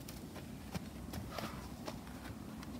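A ridden horse walks forward, its hooves giving soft, regular clip-clop steps at a moderate distance over a steady background hiss.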